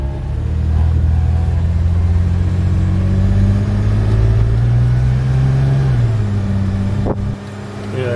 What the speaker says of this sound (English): So I got a slight weird idle issue occasionally